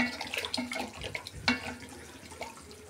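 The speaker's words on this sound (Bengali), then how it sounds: "হাঁড়িতে পরিমাণ মতন পানি দিয়ে দিচ্ছি।" Water poured into a cooking pot for making rice with peas, a faint, uneven splashing and trickling, with a few small clinks of the pot.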